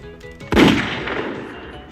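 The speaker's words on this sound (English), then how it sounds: "The gunshot's kind of working for you." A single sharp gunshot from a video game sample pack cracks loudly once, then a short reverberant tail fades over the next second.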